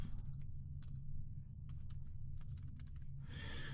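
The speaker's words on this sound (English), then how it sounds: "the message that we might want to type is something like hello honeycomb" Close typing of a text message on a computer keyboard during Android app development, quick clustered keystrokes with short pauses, then a brief breathy exhale at the end.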